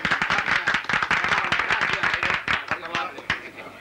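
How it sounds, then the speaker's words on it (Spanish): Applause from a group of people in an Argentine comedy film scene after a session closes, a dense patter of clapping with voices talking over it, fading slightly toward the end. "Pido un aplauso para el señor presidente."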